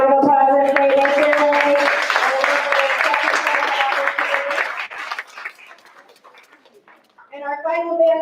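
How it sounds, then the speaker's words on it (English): Audience at a school board meeting applauding with scattered clapping beneath a voice speaking over a microphone, the clapping fading out before the voice returns. "All right, one more round of applause,"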